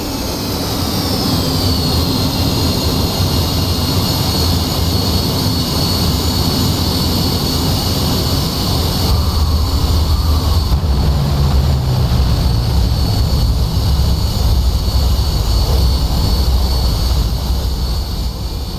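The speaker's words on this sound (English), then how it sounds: "we'll just get the canopy opened up again so we can hear the wonderful sounds of the F5" F-5E Tiger II jet engine in DCS taxiing off the runway onto a taxiway with the canopy opening, a loud steady turbine roar and high whine holding constant throughout, alone with no talk.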